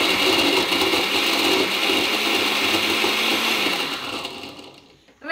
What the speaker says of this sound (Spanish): Recuerden que esto lo debemos licuar muy poquitico, unos 5 segundos nomás